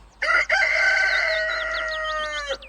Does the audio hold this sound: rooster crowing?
yes